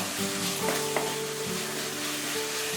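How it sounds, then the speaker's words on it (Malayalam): Grated coconut being stirred into hot jaggery syrup for a Kerala banana-filled sweet, giving a steady low sizzle with soft scraping strokes throughout, close and moderately quiet, with no talking. "ഈ തേങ്ങാപ്പീര ഈ ശർക്കര പാനിയൊക്കെ നന്നായിട്ടൊന്ന് തിരിക്കട്ടെ."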